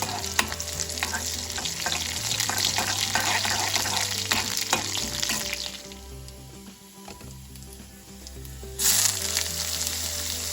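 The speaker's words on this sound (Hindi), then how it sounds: "इसके लिए मैंने थोड़ा सा तेल लिया है, उसमें जीरा डाला, उसके बाद उसमें थोड़ा अदरक और हरी मिर्च को सौते कर रही हूँ।" Cumin, ginger and green chilli sizzle in a little hot oil in a pan, a steady crackling fry with occasional stirring scrapes, close up, easing off midway before flaring again.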